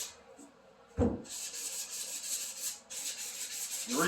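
Sandpaper rubs along the routed, rounded edges of a wooden shaker cabinet door in quick back-and-forth strokes, a close, soft hissing scrape with a brief knock and short pauses between passes.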